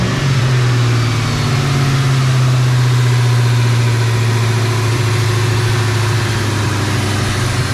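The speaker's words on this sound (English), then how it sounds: "Sounds like it's idling fine now." A car idles steadily after a 78mm BBK throttle body install, a loud, constant low engine hum with a strong rumbling tone and no change in pitch throughout.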